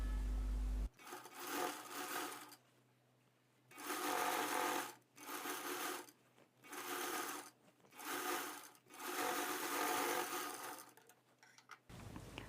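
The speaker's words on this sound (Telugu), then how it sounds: "మళ్ళీ డబల్ స్టిచ్ చేసేస్తాను." A sewing machine runs a double stitch along a blouse seam in several loud, steady bursts of a few seconds each, with short quiet pauses between them.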